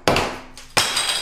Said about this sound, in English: I'm just taking a hammer and from an angle on top, pop